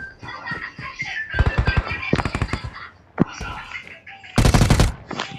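Groza rifle fire in an online shooter game comes in several sharp, rapid bursts of close, loud shots, separated by short pauses, with a player's voice murmuring between them.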